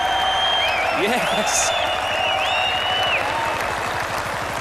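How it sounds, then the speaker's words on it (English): A cricket crowd at a 1990 West Indies versus England Test match applauds the West Indies team. The clapping is broad and steady, a commentator speaks briefly over it, and thin whistles rise above the crowd. "How they deserve their applause."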